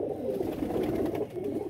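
A Teddy pigeon gives a low, soft, continuous coo, close by and steady for under two seconds.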